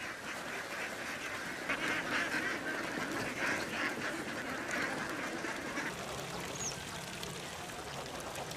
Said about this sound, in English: thousands of ducks follow their familiar paths from the coops to the free-range fields